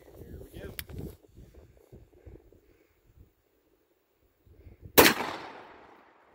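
A Remington 1100 shotgun fires a Winchester Super X slug outdoors in a single loud, sharp blast that rings out and decays over about a second, following a stretch of quiet talking and faint wind.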